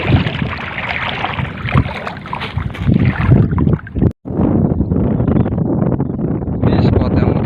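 Strong wind buffets the microphone steadily and loudly at a waterside spot sheltered by water spinach while fishing for tilapia, with a brief lull midway.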